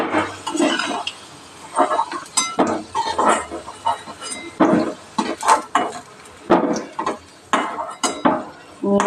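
Metal utensils scrape and clink against a pan as fried potato is lifted out, in a string of irregular sharp knocks and clatters, close and fairly loud with short pauses between.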